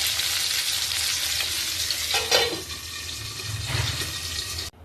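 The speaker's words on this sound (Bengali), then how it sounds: "আর একটু ছিল ওটা বেশি ভাজা হচ্ছে" Tengra fish fry in a little oil, a close continuous sizzle with a stirring scrape midway, ending abruptly.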